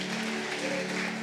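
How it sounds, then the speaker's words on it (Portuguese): Congregation applauding during a worship service at a church conference, a steady dense wash of clapping with a sustained musical tone underneath, fairly loud and continuous throughout. "Vamos aplaudir ao nome do Senhor."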